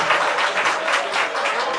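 An audience applauding at a public address: dense, even clapping from many hands, moderately loud and continuous, with no talking over it.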